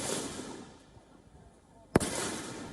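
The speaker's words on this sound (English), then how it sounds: "Gunshots ring out at this makeshift shooting range deep in the forests of Myanmar." A gunshot at a makeshift shooting range deep in a Myanmar forest where young civilians train. One sharp, loud crack cuts through a rushing outdoor background, and the shot sounds fairly close.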